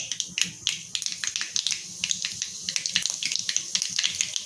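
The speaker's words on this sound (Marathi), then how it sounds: "मोहरी चांगली तडतडायला लागली की आपण त्याच्यामध्ये जिरं टाकून घेऊया" Mustard seeds and cumin crackle in hot oil in a kadhai for stuffed green chillies, a close, steady run of sharp pops and spits over a soft sizzle.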